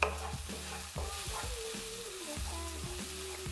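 Garlic and red chili are stirred in hot oil for spicy shrimp noodles. A soft sizzle sits under repeated utensil scrapes and knocks against the pan in a quick, uneven rhythm, and some background music plays.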